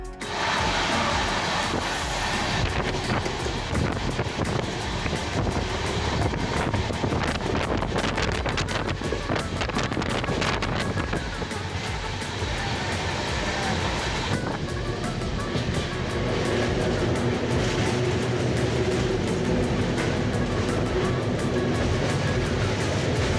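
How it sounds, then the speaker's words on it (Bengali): A passenger train runs from Shalimar station toward Puri, giving a loud, continuous rumble and rattle mixed with heavy wind buffeting throughout. "আমাদের ট্রেন কিন্তু ছেড়ে দিল শালিমার স্টেশন থেকে পুরীর উদ্দেশ্যে।"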